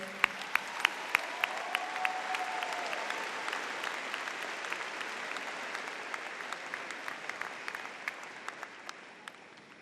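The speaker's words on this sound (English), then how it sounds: "Can we please have a round of applause for our remarkable educators?" Graduation ceremony audience applauding its educators, a broad sustained round of clapping from a large crowd with crisp nearby claps punctuating it, slowly tapering toward the end.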